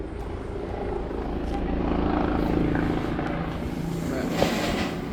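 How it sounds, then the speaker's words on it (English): A police helicopter passes over a house, its rotor throbbing as a steady, fairly loud drone that builds and holds throughout, heard from outdoors with light background noise. "Look, a goddamn helicopter is passing through my house. You know, that's a police helicopter."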